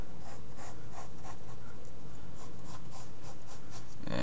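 A pencil scratches across paper while drawing a square, making a close, continuous series of rhythmic rasping strokes with no speech.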